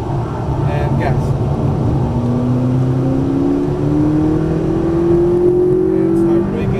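Loud exotic sports car accelerating on a racetrack, engine pitch climbing steadily in a long smooth rise, heard from inside the cabin with an instructor talking over it.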